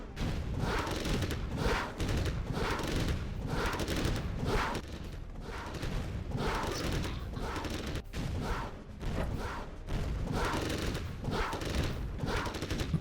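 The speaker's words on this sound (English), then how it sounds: "Ranger doesn't care about shooting through a barbed wire fence." Continuous gunfire from Ranger units in a real-time strategy match, dense bursts of rapid shots filling the whole stretch at a steady, loud level with brief dips between volleys.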